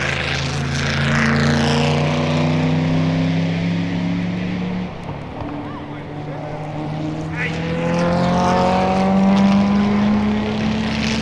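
Racing cars at the 1964 Le Mans 24-hour race roar past loud and close, engines downshifting under braking and then climbing through the gears as they accelerate, rising and falling pitch sweeps repeating over several passes.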